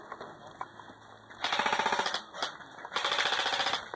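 Airsoft guns fire in two rapid full-auto bursts of sharp clicking shots at close range during an outdoor game, with a few scattered single shots around them.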